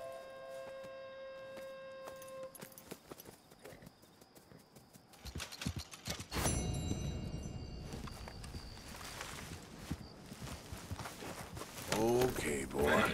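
Horse hooves clip-clop in a Red Dead Redemption 2 game scene, a steady walking rhythm that picks up into a louder gallop, with speech heard over the hoofbeats.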